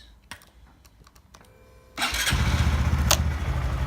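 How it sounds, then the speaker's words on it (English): A Honda MSX 125 Grom motorcycle with a ProTaper handlebar swap: a few clicks and handling noises, then the small engine starts and settles into a steady, close idle that rumbles alone for the rest. "start the bike and then turn the steering left and right with the engine running"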